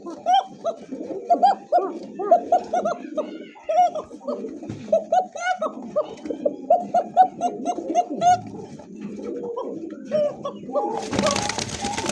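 Bashiraj pigeons coo repeatedly up close in rhythmic, throaty bursts, with other birds calling around them and a brief rush of noise near the end.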